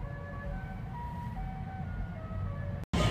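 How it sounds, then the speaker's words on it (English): A tinny electronic melody, La Cucaracha played as a Tesla car's novelty horn sound, plays a series of short sustained notes over a low rumbling background, then cuts off abruptly. "you push this button, go to your toy box, horn sound, and you make it the cucaracha"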